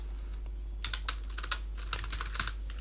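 Crisp keystrokes on a computer keyboard while text is entered into an Excel VBA billing program, tapping in two quick irregular bursts over a steady low electrical hum, with no talking.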